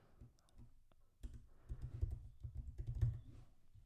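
Fingers tap quickly on a computer keyboard while grocery store names are typed into a spreadsheet on a Mac, a close, quiet run of clicks that speeds up after a short pause.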